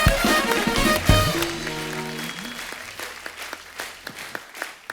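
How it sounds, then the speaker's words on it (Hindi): Studio audience applause for Akshay Kumar on The Kapil Sharma Show, a Hindi TV comedy show, a loud burst of clapping that fades over a few seconds while a voice talks over it. "एक बार जोरदार तालियां अक्षय बाजी के लिए"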